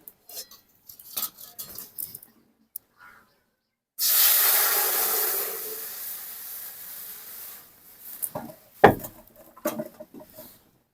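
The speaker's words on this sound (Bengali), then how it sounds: "এখন দিয়ে দেবো কড়াইতে জল" Water poured into a hot kadai with toasted cumin on a lit stove, a loud burst of steam hiss that starts abruptly and slowly fades over several seconds, with clinks of utensils before and after.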